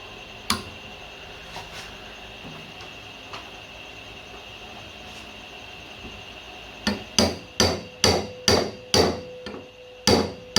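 Sharp metallic slide hammer blows on a Ford Escort II boot lid: a few scattered strikes, then a quick, steady series of about eight ringing impacts close by.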